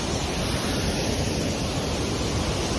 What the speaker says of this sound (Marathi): खूप गंदा पाणी वाहत